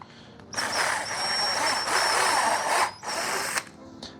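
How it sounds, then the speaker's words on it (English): A power drill with a stepped drill bit whines steadily through material in two long bursts, with a brief pause between them and a short final spurt, loud and close. "Use our stepped drill bit."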